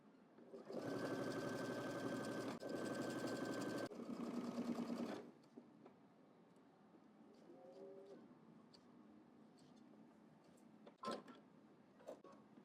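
A sewing machine stitching a double-breasted jacket: one steady loud whirring run of about four seconds with a brief hitch midway, followed by quiet handling clicks and rustles.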